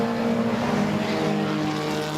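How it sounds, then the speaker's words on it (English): Junior sedan race cars lapping Darwin Speedway during a national title heat, a steady loud engine drone with a low tonal hum running throughout, no voices. "The red car's got going again. Nathan Thorne storming back around the outside"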